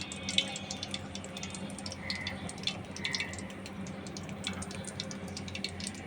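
Coriander leaf pakoras fry in hot oil, a soft continuous sizzle with scattered crackles and pops, fairly quiet throughout.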